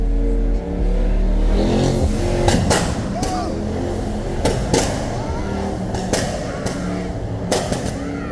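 A 600+ hp Mercedes-AMG E63s W213 revving and accelerating on a drive in Accra, the engine note loud and continuous with sharp bursts and pops, heard from inside the car while people talk over it.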